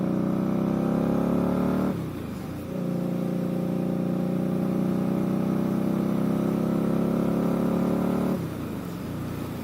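An Indian motorcycle engine drones steadily while being ridden, a loud close rumble that dips briefly twice as the rider shifts or eases off, then settles back to a constant hum.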